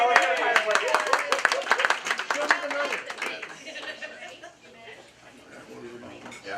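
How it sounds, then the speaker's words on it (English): Rotary Club meeting members clapping for a volunteer, a short burst of close, distinct hand claps that thins out after a few seconds, with voices talking and murmuring alongside. "And a big round of applause for Amy for all of her hard work."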